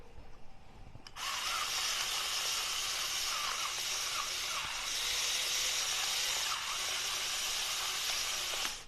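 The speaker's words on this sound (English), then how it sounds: "I'm going to grind some fresh pepper" Fresh pepper being ground in a pepper grinder over a salad dressing of oil and salt: a steady, close, gritty hiss that runs for several seconds without a break.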